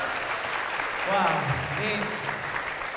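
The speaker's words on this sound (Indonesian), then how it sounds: "Sekali lagi tepuk tangannya dong buat temennya tadi." An audience at an Islamic religious television program applauds a participant, a steady wash of clapping that swells briefly in the middle while a voice exclaims over it.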